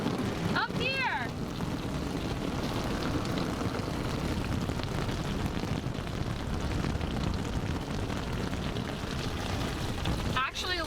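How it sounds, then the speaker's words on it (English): Rain hisses steadily on the soft top of a Mazda Miata, a dense close wash of sound with brief voices at the start and end. "Uh-oh, here comes the rain."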